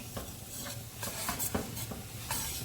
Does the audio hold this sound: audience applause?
no